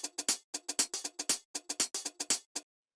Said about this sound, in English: the next thing we have here are these hi-hats, which sound like this